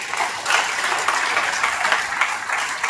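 A crowd claps steadily in sustained applause, moderately loud and even throughout, with no voices over it.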